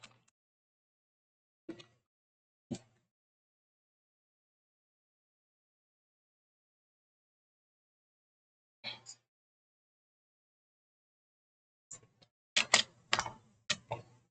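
Typing on a computer keyboard comes through as sparse, quiet key clicks, a few isolated taps separated by long silences and then a quicker burst of keystrokes near the end, close up.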